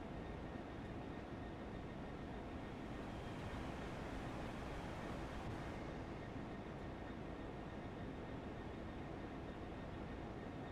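A train running on the Brighton Line gives a steady, unbroken rushing rumble, heard from inside and fairly quiet throughout.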